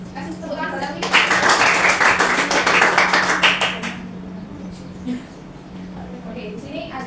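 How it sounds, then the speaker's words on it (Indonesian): Audience applause for a student named Alwi during a university class presentation, a burst of clapping that swells for about three seconds before fading back under a steady low hum. "Kasih tepuk tangan buat Alwi."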